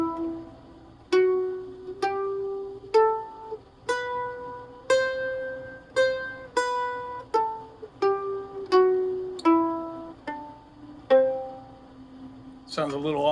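Mandolin picking a G Lydian mode scale that starts and ends on C, about a dozen bright plucked notes played one after another at a steady, even pace, each note ringing and fading, heard alone and close.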